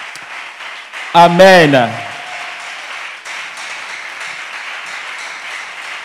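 A church congregation applauds: a steady, fairly quiet patter of clapping keeps going after a brief voiced exclamation, with the room's murmur beneath it.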